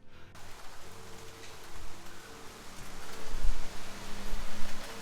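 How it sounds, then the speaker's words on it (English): Steady rain pours down outdoors after a short hailstorm, a dense wash of drops striking surfaces that swells louder toward the end, with low rumbling wind underneath and no talking. "You can kind of see like the waves of rain ripping by, but it was hailing for a second."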